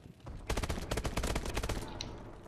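Rapid automatic gunfire in the video game Call of Duty: Advanced Warfare, a loud close burst of rattling shots lasting about a second and a half before easing off, with no voices.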